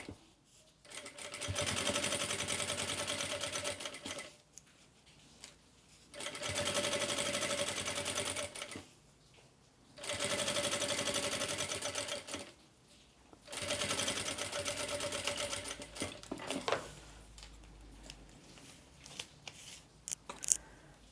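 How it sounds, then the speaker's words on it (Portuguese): A sewing machine runs a seam on a baby toiletry bag or makeup pouch in several bursts of steady whirring stitching, separated by short pauses, close and fairly loud with no talking. "Eu passo uma costura com pé de máquina mesmo."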